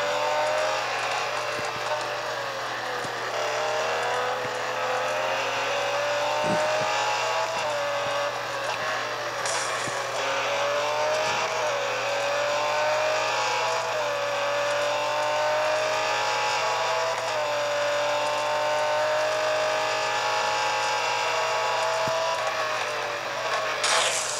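A Lamborghini Centenario races in a video game, its engine whining loud and close as the pitch climbs and drops through gear changes, with a few sharp clicks over a steady low drone and no talking.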